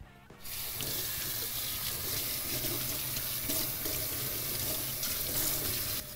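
Water runs steadily from a tap, splashing onto slow juicer parts being rinsed in a sink, continuous and fairly close, with no speech.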